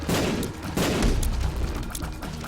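Sticky bomb shots in Binding of Isaac: Rebirth, a dense burst of loud, overlapping game blasts and pops layered with low rumbling booms, continuous and busy throughout.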